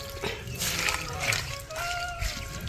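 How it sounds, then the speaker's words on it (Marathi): A thin stream of water trickles and splashes steadily from a tap, fairly close, with faint background noise. "हे असं नळाने थोडं थोडं पाणी येतं फक्त"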